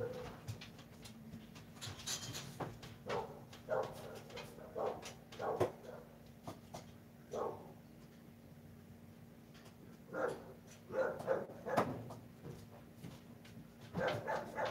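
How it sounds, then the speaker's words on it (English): A dog barks in short repeated bursts, some louder and nearer, others softer, with pauses between them over a low steady background hum. "let the dog in because he's barking at"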